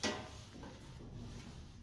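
Side door of a Pack King semi-automatic strapping machine opening, a single sharp mechanical click or latch at the start followed by a low steady machine hum.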